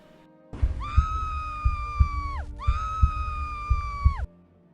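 A woman's long, high scream dubbed onto Lara Croft's fall in the Tomb Raider film Cradle of Life, two loud sustained wails in a row with a short break between, over a thumping, rumbling low background.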